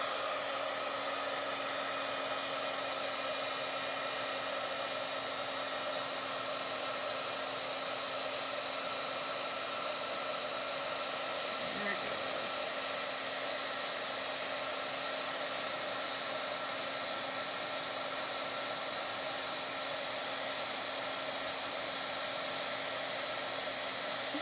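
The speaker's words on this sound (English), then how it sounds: "let's get the heating tool and get this embossed" A heat embossing tool blowing hot air onto a journal cover coated in embossing powder, a steady, loud whirring hum with a constant tone, unbroken throughout and close by.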